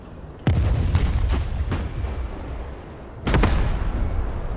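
Battlefield combat in the video game Broken Arrow: two heavy booming blasts of gunfire and explosions, each followed by a long rumbling roar that hangs over continuous low battle noise.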